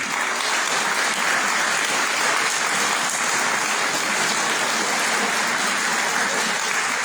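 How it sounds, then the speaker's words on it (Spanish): Steady, dense applause from an audience at a Catholic monthly retreat in Puebla, sustained and even throughout with no voices breaking through. "le damos un aplauso a Margarita por todo lo que hizo"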